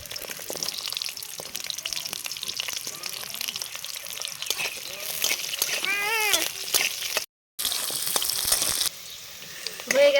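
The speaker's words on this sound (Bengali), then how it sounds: "এবার এখানে ক্যাপসিকাম আর এই গাজরটা ভেজে নেব।" Carrot pieces fry in hot oil in a wok with a steady, close sizzle and crackle. Brief stirring scrapes and a few high squeaky tones come through, with a short silent gap near the end.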